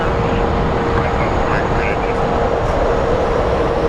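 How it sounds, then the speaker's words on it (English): Southwest Airlines airliner rolling slowly at Phoenix Sky Harbor International Airport, a loud, dense, continuous engine roar and rumble that stays steady from start to finish, with speech mixed in. "Very uncharacteristic, slow roll by Southwest Airlines, which usually never happens."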